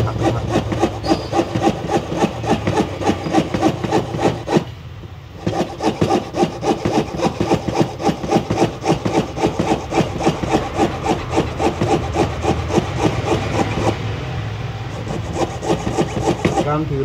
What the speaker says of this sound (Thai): การถือเลื่อยแบบนี้นะกระแทกลงแบบนี้ จะช่วยผ่อนแรงเราได้เยอะ